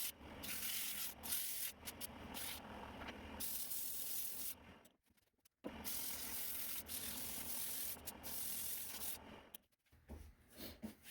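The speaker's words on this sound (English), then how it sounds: "You sand it down a little bit, see what it looks like." Sanding on a wooden mallet spinning on a wood lathe, a steady close-up rubbing hiss with a motor hum underneath that drops out briefly twice, no talking.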